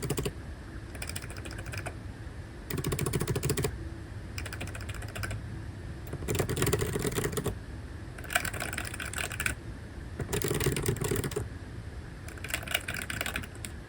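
Bursts of brisk typing on a mechanical keyboard built into a laptop, clacky keystrokes in rapid clusters separated by brief pauses, close and clear.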